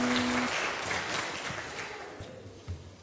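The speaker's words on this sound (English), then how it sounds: "Praise clap to God." A church congregation at a Vacation Bible School celebration Sunday gives a round of applause that starts full and fades over a few seconds, with scattered claps near the end.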